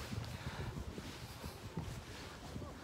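Steady wind buffeting the microphone outdoors among cherry blossoms in Japan, a low continuous rumble with no voices.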